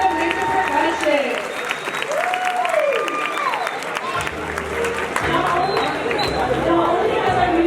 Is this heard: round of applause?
yes